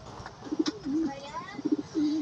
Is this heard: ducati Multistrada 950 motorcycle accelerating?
no